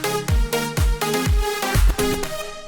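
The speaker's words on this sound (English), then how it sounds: "In our DAW, we have a little drop that I made with some stock Logic plugins" An EDM house drop built from stock Logic plugins and an Orbital preset pack, with no bass line, pumps loudly in a rhythmic pattern: thumping kicks under bright, harmonic synth chords, with no voices.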